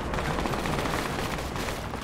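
Heavy rumbling battle din from a military tactical shooter, a continuous loud wash of distant automatic fire and blasts with no clear gaps.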